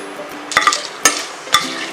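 A spoon scrapes and knocks against a pan three times while stirring dried chillies, bay leaf, cardamom, cloves and cinnamon, with a light sizzle of frying underneath.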